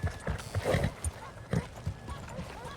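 A horse's hooves clip-clop in a western video game, a rhythmic series of close, moderately loud hoofbeats.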